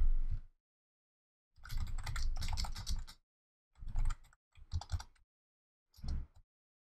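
Computer keyboard being typed on quickly, several short bursts of rapid key clicks separated by silent pauses, close and fairly quiet.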